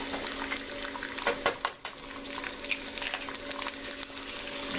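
Eggs frying in a hot pan for huevos rancheros, a steady loud sizzle and crackle throughout with a few sharp clinks and scrapes of a utensil in the middle.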